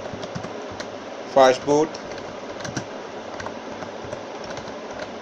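Command being typed on a computer keyboard during an Asus Zenfone 5 fastboot session: two quick bursts of clicking keystrokes near the middle, close and clear, against a quiet room background, with a person speaking briefly.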